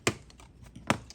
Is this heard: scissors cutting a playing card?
yes